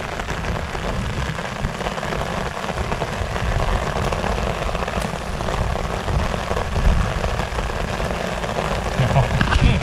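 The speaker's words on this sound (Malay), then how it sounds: "Hujan lebat geng." Heavy rain pouring onto an inflatable fishing boat at sea, a dense steady hiss and patter close by, growing slightly louder toward the end with no talking.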